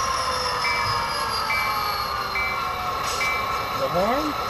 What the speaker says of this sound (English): Take a listen to the bell.